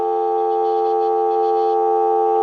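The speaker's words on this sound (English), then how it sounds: "Give you some dial tone" A telephone line on a converted Wesco wooden wall phone, made in St. Louis, Missouri, plays a loud, continuous dial tone that stays steady from start to end, with nothing else heard.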